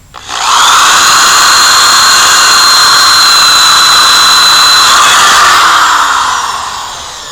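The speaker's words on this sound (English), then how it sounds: "I use a drill with this attachment on it." A power drill with a wire brush attachment whines steadily at high pitch for several seconds while cleaning a Harley motorcycle rear wheel rim, loud and close, with a scraping brush texture, then slowly winds down.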